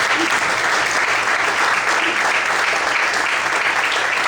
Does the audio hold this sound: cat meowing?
no